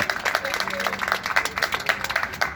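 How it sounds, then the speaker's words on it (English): A crowd claps and applauds steadily, a dense patter of hands that holds at an even level throughout. "Kathy, she deserves a big round of applause"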